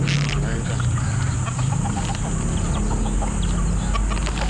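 Golden native cross chickens clucking in a small pen, with close, scattered clucks and short calls over a steady background noise.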